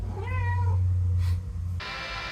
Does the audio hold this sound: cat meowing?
yes